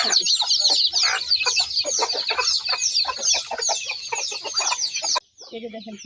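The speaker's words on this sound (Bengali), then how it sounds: "মুরগির সাথে দেখেন আরো কত বাচ্চা" Hens clucking among a brood of chicks in a rooftop coop, with dense high peeping and clucks layered for about five seconds before dropping to quieter calls and a faint voice.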